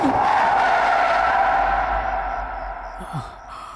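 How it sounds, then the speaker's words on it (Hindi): A car brakes to a stop with a short tire skid and a fading engine hum, close and fairly loud, as the noise dies down toward the end. "स्टॉप स्टॉप, गाड़ी रोको।"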